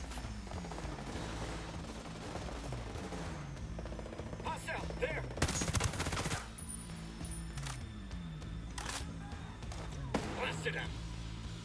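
Video game gunfire from Ghost Recon Breakpoint comes as scattered sharp shots and bursts over a game soundtrack, with one loud blast in the middle.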